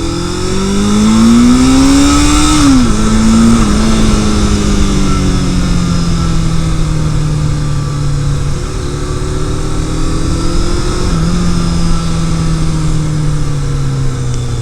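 A Yamaha XJ650 Turbo motorcycle engine revs hard and loud under turbo boost, its pitch climbing, dropping briefly, then rising and holding steady in a continuous close drone with no talk.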